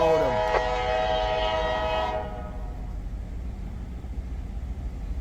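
A train led by an EMD locomotive passes near Marion, Ohio, opening with a loud sustained multi-tone horn blast that cuts off after about two seconds, leaving a steady low rumble of rolling cars.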